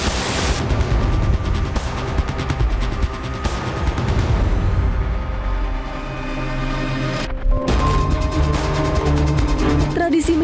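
Rapid strings of sharp firecracker bangs crackle in dense bursts during Eid al-Fitr celebrations in Indonesia, loud and close, with a brief pause before the popping resumes.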